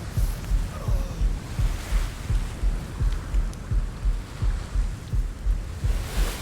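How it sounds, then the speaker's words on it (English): A low, muffled heartbeat in the game Atlas, a steady thumping pulse repeating about twice a second throughout, over a soft wash of ambient noise. "The heartbeats are starting to go away a little bit."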